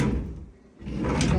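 A kitchen drawer in a let property is pulled and pushed, giving two close rumbling slides separated by a short pause, with no voices.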